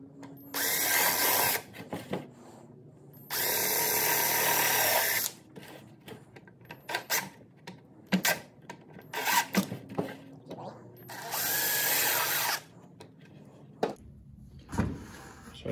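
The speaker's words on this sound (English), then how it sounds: "So we're just gonna drill four small holes." A power drill whirs in four short, loud bursts separated by clicks and handling noises, close by.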